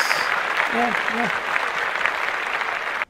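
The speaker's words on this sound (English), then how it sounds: "If you want, let's clap it up." Audience applause rolls on steadily through a comedy show, with a few voices calling out briefly over the clapping before it cuts off.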